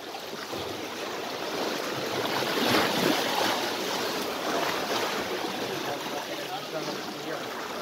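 Sea waves wash in along a rocky shore as the tide rises, giving a loud, continuous rushing surf with a gentle swell in the middle, close to the microphone and with some wind.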